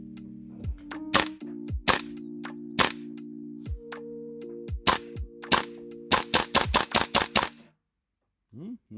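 A King Arms TWS 9 gas airsoft gun fires a series of sharp cracking shots, first spaced singly and then in a rapid string, close and loud over a steady low hum, before falling silent.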